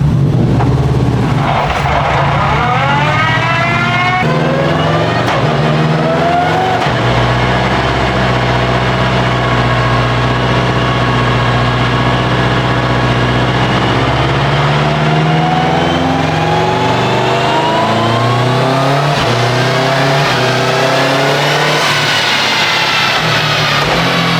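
A car on a dyno with a sequential shifter pulls through the gears, its engine revving loud and close in long rising sweeps broken by sharp shift drops, then idling down at the end.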